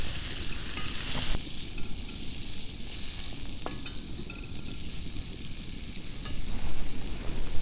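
Onions frying in butter at a campsite, a steady loud sizzle with stirring running unbroken throughout, swelling slightly near the end; no one speaks.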